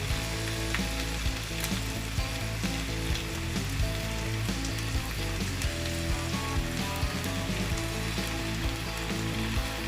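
Continuous busy sizzle of cheese melting on a hot burger griddle, steady crackling and hiss with small pops throughout, no voices.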